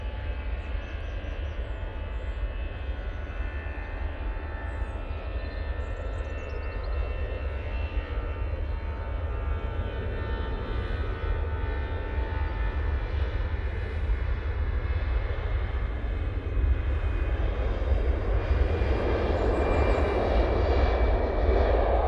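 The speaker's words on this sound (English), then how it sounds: "EasyJet out to Palma de Mallorca now." An EasyJet airliner takes off at Manchester Airport with a sustained, loud engine roar and a low rumble that builds steadily toward the end, with no talk over it.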